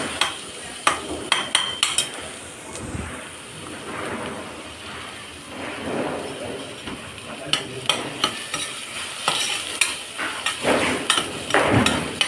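Ginger and garlic fry in a hot pan for chicken chukka, a steady close sizzle broken by repeated sharp clacks and scrapes of a ladle stirring against the metal.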